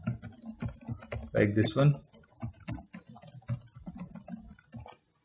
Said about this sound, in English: I'm going to type like this